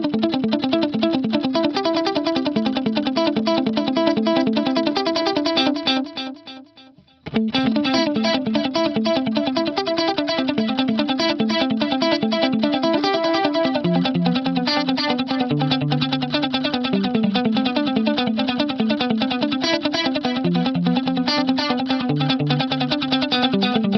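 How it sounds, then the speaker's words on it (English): Electric guitar through a 300 ms delay plays a continuous distorted line, first dry of modulation and then with chorus added to the repeats after a brief dip in sound midway. The playing is loud and steady, with no talking. "I'll let you hear it without the chorus first and then with the chorus."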